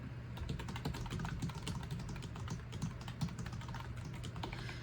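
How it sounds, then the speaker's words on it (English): Continuous, fairly fast typing on a computer keyboard as a message is entered, a steady stream of close key clicks with a low background hum and no talk. "So I'm gonna do message 1, type in my message"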